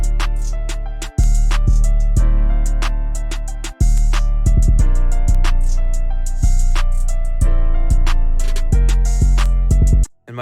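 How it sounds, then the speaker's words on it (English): A trap beat built in FL Studio, with a deep booming 808 bass pattern under crisp hi-hats, snares and quick triplet rolls, loud and dense throughout, ending with a short roll before a brief drop. "And for this beat, I had 2 different 808 patterns."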